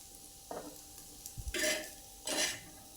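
Green chillies with garlic and coarsely crushed peanuts are stirred in a pan: a few separate bursts of scraping and sizzle, the last two louder, over a quiet background with a faint utensil knock.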